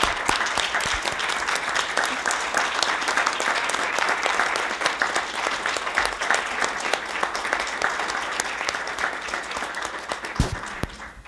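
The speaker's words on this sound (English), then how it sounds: "Let's give her a round of applause" A steady, dense round of audience applause fills a city council meeting hall, many hands clapping continuously for about ten seconds before thinning slightly at the end.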